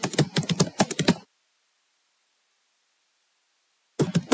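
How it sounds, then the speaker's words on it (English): Typing on a computer keyboard, a quick burst of close key clicks at the start, then silence, then a second short burst at the end. "So I'll just type in some content."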